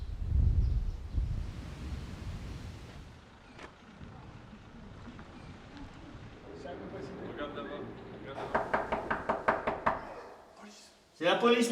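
Police knock at dawn on an apartment door in a housing estate: a rapid series of firm, loud knocks near the end, after quiet shuffling and ambient rustle, with muffled voices around.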